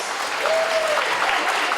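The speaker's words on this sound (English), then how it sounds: "Let's give ourselves a big round of applause." Short burst of audience applause at an environment summit, many hands clapping steadily in a hall, loud and close.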